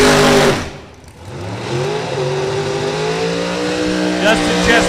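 Chrysler-powered drag racing cars at Kil-Kare Dragway during an outlaw series event, engines roaring loudly and steadily with a brief dip, then rising harmonic drone as the cars run, while an announcer talks over it.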